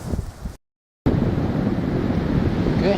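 Strong cold wind blows on a mountain hike near Kamikoma in Japan, a steady low roar of buffeting against the microphone that drops out briefly and then returns with full force.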